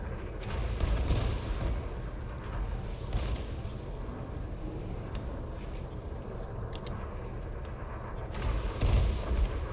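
Spaceship under enemy fire in a space combat video game, the Adder, with steady booming impacts and rumbling blasts throughout, swelling louder near the start and end.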